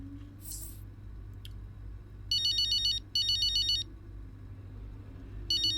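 Phone ringing in the F1 23 racing game, Breaking Point story mode: three bursts of a bright electronic ringtone, each about a second long, over a low steady hum.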